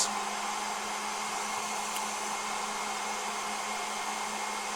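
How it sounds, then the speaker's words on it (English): A loud, steady whir of the cooling fan inside an ISDT FD-200 lithium-ion battery discharger runs continuously with a low constant hum underneath, no voices. "There's a fan inside of here that is in fact really quite loud"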